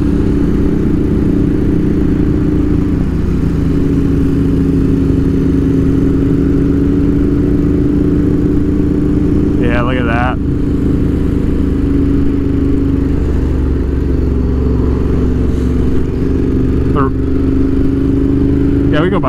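A Ducati Monster 1200 S motorcycle ridden on an Alaskan road, its engine holding a steady, loud drone throughout with a few brief wind or mechanical bursts, recorded from the rider's position.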